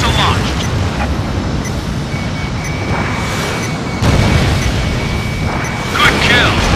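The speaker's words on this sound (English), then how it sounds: "Missile launched." Missile launch and blast in the jet combat game Ace Combat Infinity, a dense, loud roaring rumble that swells sharply around the midpoint and again near the end, with radio chatter mixed in beneath.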